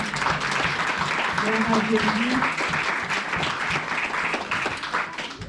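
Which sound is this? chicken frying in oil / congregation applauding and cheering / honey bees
congregation applauding and cheering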